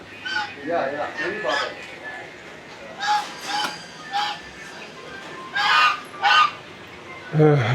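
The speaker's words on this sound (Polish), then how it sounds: "Gęsi na zupę." Geese in Dharavi, Mumbai, honk repeatedly in short, nasal bursts, a few calls at a time, with quiet background noise between them.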